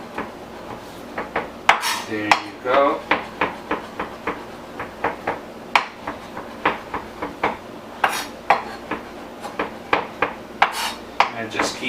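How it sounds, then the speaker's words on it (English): A knife chops potatoes on a cutting board in a steady run of sharp close knocks, loud and fairly even, while a voice talks over the cutting. "just chop it up and keep on chopping so you have nice little pieces"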